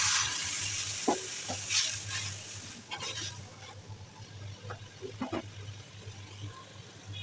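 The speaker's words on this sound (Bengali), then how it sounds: "গরম পানি দিয়ে দিচ্ছি।" Hot water hits frying onion, garlic, turmeric, chili, coriander and salt in a pan, setting off a loud hissing sizzle that gradually quiets, punctuated by scraping stirs and light clinks; no voices.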